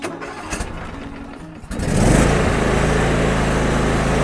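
Craftsman T3100 90th Anniversary riding mower engine started with the choke on: a brief cranking whir, then the small engine catches and settles into a loud, steady close-up roar.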